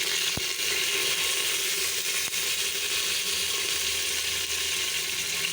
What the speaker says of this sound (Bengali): এখন দিয়ে দিলাম পেঁয়াজ কুচি